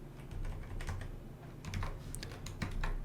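Fingers type a template name on a computer keyboard, quick close clusters of key clicks in a short burst with small pauses, alone without talk.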